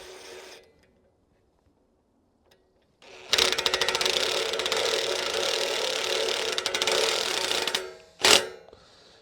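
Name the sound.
ratchet wrench tightening bolts on a bracket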